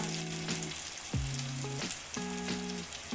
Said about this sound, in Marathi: हे सगळं तेल सुटेपर्यंत मसाल्याला तळून घ्यायचं आहे.